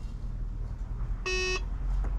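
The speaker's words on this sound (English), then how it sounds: "we press and hold until we hear the beep" A single electronic beep from a Tesla Model 3 or Model Y confirming a programmed height setting, steady and tonal, lasting about a third of a second against a low rumbling background.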